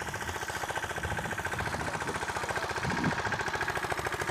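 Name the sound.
tractor engine running in a peanut field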